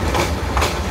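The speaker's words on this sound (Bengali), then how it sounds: "সরারচর রেলওয়ে স্টেশন ছেড়ে যাচ্ছে ঢাকা অভিমুখী আন্তনগর কিশোরগঞ্জ এক্সপ্রেস" A Dhaka-bound Kishoreganj Express intercity train pulls out of Sorarchar station, a steady broadband rumble with rail clatter running throughout, close and fairly loud, with no voices.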